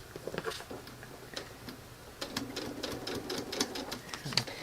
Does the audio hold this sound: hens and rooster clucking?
no